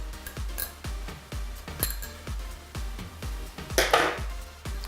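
Donut batter of sugar and shortening being stirred in a bowl, with a spoon knocking against the side in a steady rhythmic series of clinks, close and moderately loud, plus a brief scraping swish.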